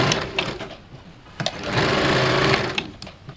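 Sewing machine stitching blouse fabric pieces into one long strip, close and loud, running in short bursts, then a longer steady run, with clicks and pauses between.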